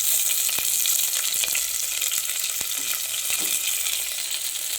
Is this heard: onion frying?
yes